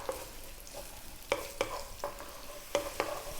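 Garlic and ginger stir-fry in a pan, a soft steady sizzle broken by a handful of sharp scraping clicks from stirring, fairly quiet.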